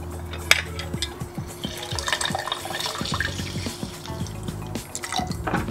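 Fresh lemon juice pours into a cocktail shaker tin, making a steady liquid trickle and drip that lasts several seconds, with a sharper splash near the start and faint clinks nearby. No one speaks.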